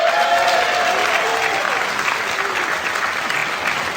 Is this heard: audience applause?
yes